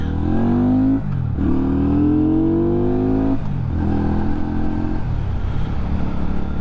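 Benda motorcycle engine under way while riding, rising in pitch through two long revving pulls with a gear change between them, then settling to a steadier drone; loud and close, with no talk.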